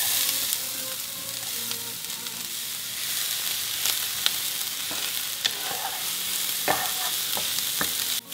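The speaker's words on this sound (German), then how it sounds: "Nun, wo die Pfanne heiß ist, geben wir den Zwiebel dazu und schwitzen den Zwiebel an." Onions sweat in hot oil in a frying pan for a broccoli-cheddar pasta with chicken, giving a steady close sizzle with occasional light stirring clicks and no talk.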